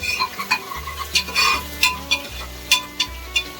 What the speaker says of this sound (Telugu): మటన్లో చికెన్లో కూడా ఇప్పుడు పచ్చిమిర్చి ఫ్రై చేసుకున్నాం